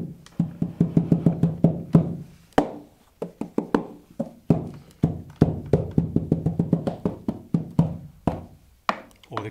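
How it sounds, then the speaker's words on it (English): Percussive thumps and taps played by hitting an accordion's bellows, a rapid rhythmic series of close, dry knocks in quick clusters with short pauses, continuing for about nine seconds. "Another percussive sound would be, of course, hitting the bellow."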